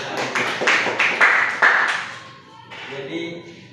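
A small group in a group guidance session claps briefly, a short burst of close applause that fades out, followed by voices talking.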